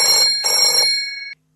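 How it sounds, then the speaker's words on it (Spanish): A telephone rings in two bursts of electronic trilling, loud and close, with no other sound around it before it cuts off abruptly. "El teléfono del grupo Lince de la Policía Nacional todos los días no para de sonar"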